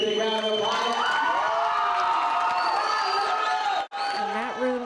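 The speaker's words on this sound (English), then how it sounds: "give this guy a great big round of applause" A room full of school students during a Challenge Day event erupts in loud cheering, whooping and shouting over applause, sustained high excited voices filling the space with a momentary break near the end.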